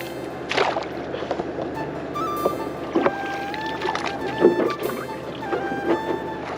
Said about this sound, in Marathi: होडी चलवतले तसा बाहेर जायत राहताला